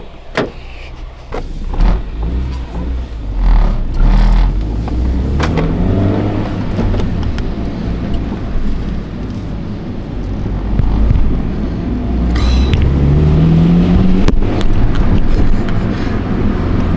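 Modded Honda Fit out on a drive, heard from inside the cabin, with engine drone rising and falling through gear changes, rumbling road and wind noise, and occasional clicks and knocks.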